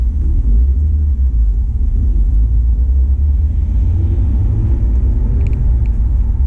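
A car rolls along the road at an easy pace, with a steady low engine and tyre rumble that stays close and even throughout and no voices.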